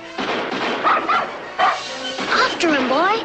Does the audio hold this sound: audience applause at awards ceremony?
no